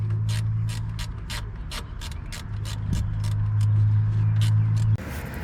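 A ratcheting box-end wrench clicks on the alternator belt tensioner of a 2002 Toyota 5VZ-FE V6, an even run of sharp close ratchet clicks over a low engine-bay hum, ending in a brief clunk.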